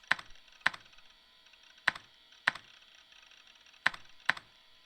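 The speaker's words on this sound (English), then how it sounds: "Oh, we're typing." Keyboard typing sound effect from the Chaos;Head Noah visual novel: six sharp, isolated key clicks at uneven intervals, crisp and close against a faint background, with no speech.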